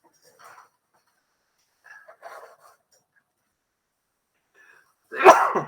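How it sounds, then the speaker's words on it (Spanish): A single sharp sneeze bursts out at the end of a quiet classroom lecture stretch, loud and close, following a few faint murmurs of speech. "Esperen un poquito porque estoy por estornudar."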